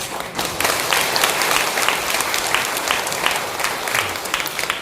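A church congregation gathered for a Sunday service claps together in a lively, sustained round of applause, with sharp hand claps standing out over the crowd and no speech.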